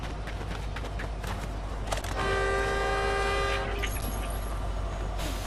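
A train in the Fortnite video game sounds a long, steady horn over a dense, rumbling background, with a few sharper tones around it.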